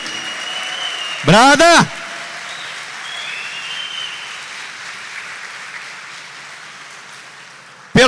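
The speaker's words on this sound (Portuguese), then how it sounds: "Merece um brado e uma salva de palmas, minha gente." A church congregation applauds steadily through a Sunday Advent Mass homily, a dense, even patter lasting the whole stretch while a voice shouts out briefly over it near the start.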